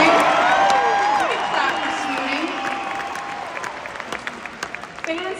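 An audience at a Rock and Roll Hall of Fame induction breaks into loud applause with cheers and whoops, the clapping swelling first and then thinning out as voices carry over it.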